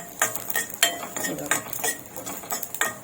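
Cumin seeds and garlic roast together in a pan, with repeated spoon scrapes and metallic clinks stirring in an uneven rhythm over a faint sizzle.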